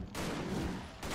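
A sustained burst of shotgun fire in the video game Victor Vran, dense and loud, filling about a second without pause, with no voices over it.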